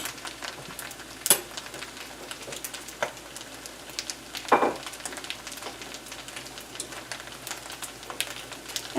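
A spaghetti frittata browns in a frying pan with a steady, soft sizzle and crackle, punctuated by a couple of sharper pops near the start and middle, fairly quiet and close with no talking.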